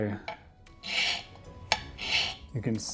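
Two slow, gritty scrapes of a mineral rasping across a rough streak plate, close and fairly quiet, with light taps between strokes.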